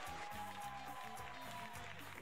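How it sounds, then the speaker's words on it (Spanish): Studio audience applause welcoming a guest on a Christian music TV show, a steady dense clatter of clapping filling the short stretch with no break. "fuerte los aplausos para recibir a George Morán aquí en el estudio de Gigantes"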